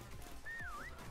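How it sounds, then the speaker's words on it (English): A single short whistle in a Call of Duty WW2 Prop Hunt match, a faint rising-and-dipping tone lasting about half a second over quiet game background. "The whistle's here though."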